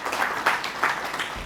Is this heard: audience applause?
yes